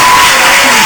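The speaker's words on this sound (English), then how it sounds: "I want to ask for a special applause for all of the student volunteers." Steady broadband applause from an audience at a conference closing session, a continuous wash of clapping held at even loudness throughout, with no voices standing out.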